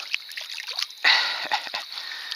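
Caught fish released back into the water at night, a short splash and slosh followed by trickling drips, close and moderately loud with no talk.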